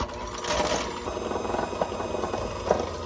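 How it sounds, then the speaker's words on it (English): An electric hand mixer whirs steadily as it beats room-temperature unsalted butter in a bowl, a close continuous motor drone with slight wobble from the beaters. "I'm using electric hand mixer and I'm going to mix this"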